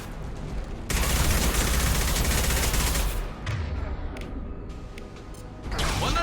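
Heavy weapon fire in the video game Mass Effect 2, a loud sustained barrage of gunfire and explosive blasts, dense and close, with a brief dip before the firing surges again.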